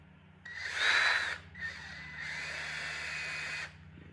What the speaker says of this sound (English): I just want to run the barrel trimmer through there.